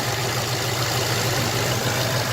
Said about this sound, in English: Engine runs nice and quiet.